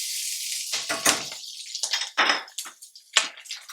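Onion going into hot oil in a pan while ivy gourd fry is cooked, giving bursts of crackling sizzle with clinks of a utensil against the pan, loud and close, no talk.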